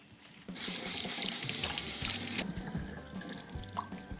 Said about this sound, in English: The first thing I'm gonna do is wash the cilantro.